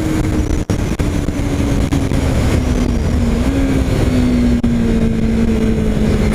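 A new Yamaha R3 motorcycle ridden at speed around Interlagos track, its engine a loud, steady high-revving drone with wind rush, pitch holding fairly constant.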